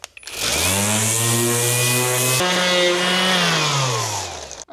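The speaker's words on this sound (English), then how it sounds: "we're going to use a cordless orbital sander loaded with 220 grit sandpaper" Cordless orbital sander fitted with 220 grit sandpaper, sanding rust off a cast iron table, a loud steady motor whine that spins up, holds with a brief dip midway, then winds down, close and alone.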